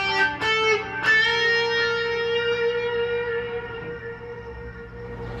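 A Paul Reed Smith McCarty 594 electric guitar plays a short phrase of a few picked notes, followed by a delay effect whose repeats trail off softly with light reverb, moderately loud and alone.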